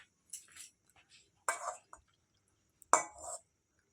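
A spoon scoops food from a dish at home, making a few brief, soft scraping and clinking sounds separated by quiet gaps.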